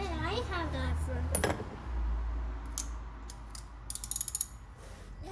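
A wrench ratchets while tightening a spark plug on a 2015 Kia Sedona engine, with clicking and metallic mechanical sounds under ongoing speech and household background noise.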